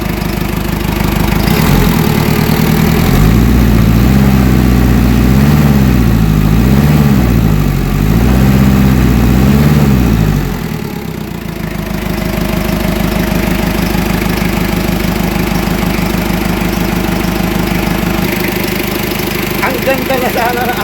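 A Ford Everest diesel engine with a failed turbo runs loudly and roughly, a steady mechanical drone that swells and dips in a wavering rhythm before settling into an even rumble, with faint talk in the background.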